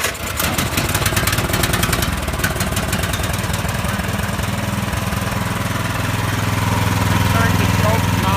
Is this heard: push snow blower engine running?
yes